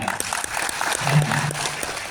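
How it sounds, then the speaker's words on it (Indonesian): A short burst of applause from a small crowd at a coordination meeting, clapping steadily for about two seconds. "Tepuk tangan buat kita."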